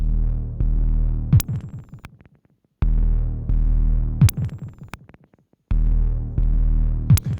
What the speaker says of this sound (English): You hear what a massive difference the effects can have on an analog synthesizer.